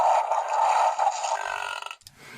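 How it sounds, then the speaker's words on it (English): A Mattel Jurassic World Chaos Theory Mega Roar Allosaurus toy lets out a loud, raspy electronic burp lasting about two seconds, close and alone, then cutting off with a brief clatter as it ends. "So there is definitely a nice little burp sound that our Allosaurus has going on."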